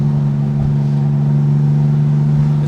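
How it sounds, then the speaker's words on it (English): A 1991 Porsche 964 Turbo in Zermatt Silver on the road, heard from the passenger seat as a steady, loud low engine drone with road noise and no change in pitch. "this 964 Turbo is not lacking in performance in any way"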